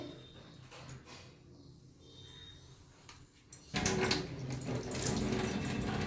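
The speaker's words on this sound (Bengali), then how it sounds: "তো এই ফুলটা ধুয়ে নিলাম।" Pumpkin flowers rinsed under running water in a sink, a quiet rustle and handling at first, then the tap gushing loudly and steadily for the last couple of seconds.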